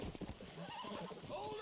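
A horse being broken in the Red Dead Redemption video game whinnies in a short, agitated burst over stamping hooves, fairly close.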